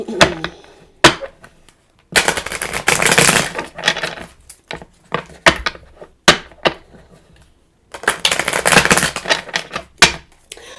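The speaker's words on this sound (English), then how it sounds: "Give me some good shuffles." Loud, close bursts of crisp riffling and slapping as a deck of tarot cards is shuffled, with sharp single snaps between the longer shuffles.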